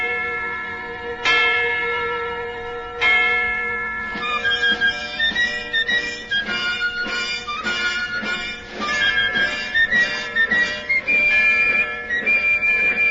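An old bell, the Liberty Bell, used as a radio show effect, tolling loud and resonant with long ringing overtones, a few slow strikes at first and then quicker overlapping peals, with no talk over it.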